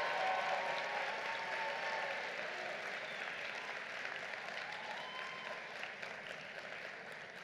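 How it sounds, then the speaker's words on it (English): Sustained applause from a commencement ceremony audience at Bergen Community College, a steady dense wash of clapping from a large crowd that slowly tapers, heard alone without speech. "Give them a big round of applause,"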